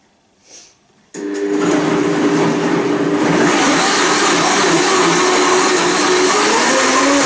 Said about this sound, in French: Alors voilà, on va mixer maintenant.